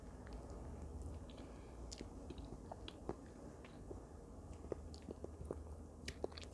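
Someone eats homemade chocolate mousse made without butter, eggs or extra sugar, producing soft, close, quiet wet mouth and chewing sounds over a steady low hum, with small smacks scattered throughout.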